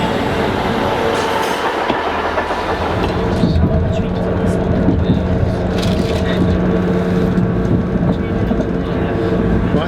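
A Class 158 diesel train rumbles steadily along the rails in northern Scotland with a continuous low drone and faint clatter, close and loud throughout, with no voices.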